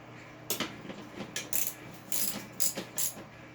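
Ratchet wrench tightening bolts on a riding mower deck during a rebuild, a series of short, close metallic clicking bursts in uneven groups with brief pauses between them, no talk.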